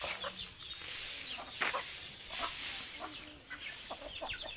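Chickens cluck at a modest distance in short, irregular bursts over a faint outdoor background.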